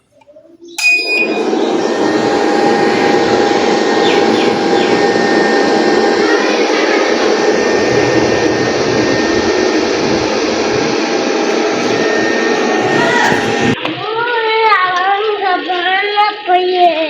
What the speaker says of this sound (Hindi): यहाँ पर हमारी वॉशिंग मशीन ऑन हो गई है और अच्छे तरीके से काम कर रही है